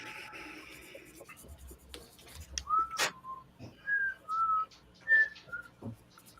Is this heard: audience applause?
no